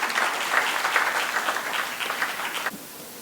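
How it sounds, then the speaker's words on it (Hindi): An auditorium audience at a Hindi kavi sammelan applauds for the poet Gauri Mishra, with a lively burst of clapping that ends abruptly near the close. "आइए एक बार तालियां बजाते हैं गौरी मिश्रा।"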